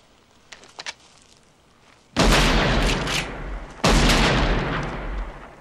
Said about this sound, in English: this is the .44 Magnum Automag, and holds a 300-grain cartridge